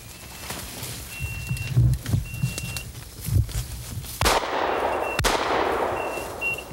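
Two sharp shotgun-like gunshots while rabbit hunting outdoors, the second followed by a lingering rumbling echo, with quieter thumps and rustling before them.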